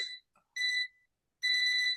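An electronic alarm going off: bright, high-pitched beeping in short bursts with silent gaps between, loud and close with no other sound around it.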